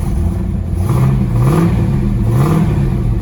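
A 1968 Ford Mustang R Code 428 Cobra Jet V8 with a 4-speed revs up close and loud, its deep rumble rising and falling through a couple of throttle blips.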